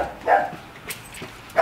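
A pet dog gives a couple of short, soft barks or yips, close by, separated by a brief pause.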